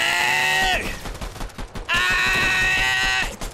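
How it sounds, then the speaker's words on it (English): Gunfire in a Fortnite match, rapid bursts of shots in two loud volleys separated by a short lull, close and dense with bright ringing tails. "They're shooting at me!"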